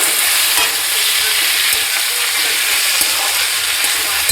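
A paste of stone-ground ginger and green chilli sizzles loudly in a pan as it is stirred, a dense steady frying hiss with occasional soft scrapes and no voices.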